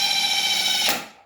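An electric drill whirs steadily during a clutch replacement on a 2003 Kawasaki KFX 400 ATV, a high-pitched motor whine that rises briefly and then spins down to silence.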